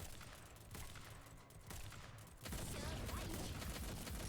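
Gunfire from the Girls Frontline: Isomer shooter comes in dense, continuous bursts, muffled at first and then louder and more sustained from midway, with no voices present.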